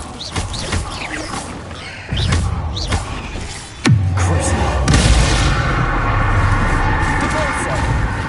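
Spell explosions from Confringo and Depulso cast in the Hogwarts Legacy video game inside a cave, sharp loud blasts with a sweeping whoosh and rumbling aftermath, mixed with game sound effects throughout.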